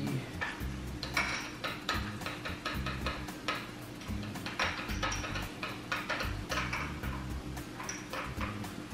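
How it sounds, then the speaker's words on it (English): Utensil scraping and clinking against a bowl while hamburger sauce with pickles is stirred together, a steady run of quick close taps and scrapes with no talk. "And then now I would mix it together."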